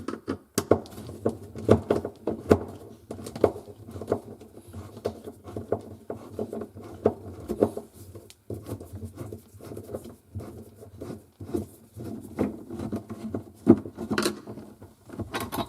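Screws being backed out of an interior panel on a Samsung refrigerator, heard as a long run of small ticking, scraping and rattling taps in an uneven rhythm, close and fairly quiet, with no voices.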